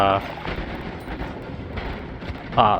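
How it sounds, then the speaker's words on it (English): Rumbling explosions and crackling blasts from the video game Noita roll on almost continuously, dense and noisy, with brief speech at the start and end. "I think I'm immune to these explosions"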